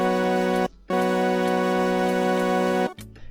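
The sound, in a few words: strummed virtual piano chords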